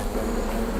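Wasps buzz in a dense, continuous drone, steady and close, filling the whole short moment without pauses or voices.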